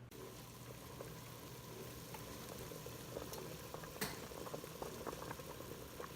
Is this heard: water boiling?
yes